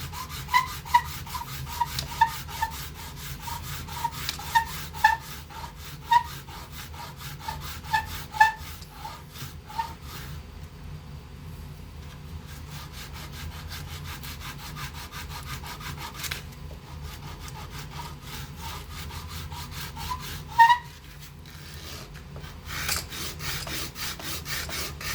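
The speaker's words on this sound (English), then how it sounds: "we have to sand it to fit" A small plastic G.I. Joe Classified mission control panel piece is sanded by hand to fit. Quick, rhythmic rasping strokes come close up in bursts, with brief pauses between them.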